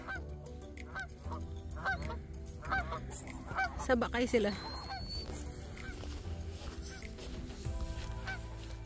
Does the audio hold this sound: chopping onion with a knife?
no